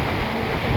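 Strong typhoon wind buffets the microphone in Dumanjug in low, rumbling gusts, loud and close.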